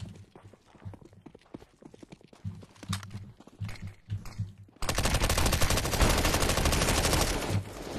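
Sustained automatic gunfire in Counter-Strike: Global Offensive, a dense loud rapid burst filling the last few seconds, preceded by quieter scattered footsteps and short game sounds.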